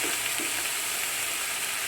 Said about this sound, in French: Je mélange. Moi je mélange toujours.